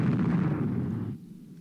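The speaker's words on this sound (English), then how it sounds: "Battleship hit." Shellfire strikes a battleship in the naval strategy game Rule the Waves II, a loud low booming blast that rumbles on and then cuts off abruptly.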